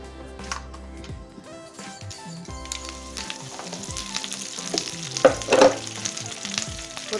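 Loud crackling and popping of mustard seeds and urad dal frying in hot oil for mint chutney tempering, a busy continuous sizzle with sharper spatters bursting through.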